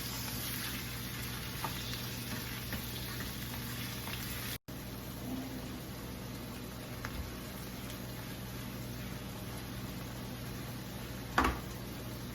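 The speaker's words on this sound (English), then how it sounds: "Okay, so we'll let the tomatoes cook." Tomatoes cooking in a pan produce a faint, steady simmering sizzle over low background hum, with a brief tap or two and no talking.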